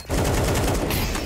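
Rapid automatic gunfire in Counter-Strike during a PGL Major Copenhagen match between Furia and Legacy, a loud, continuous burst of closely spaced shots that keeps firing without pause, with no talk over it.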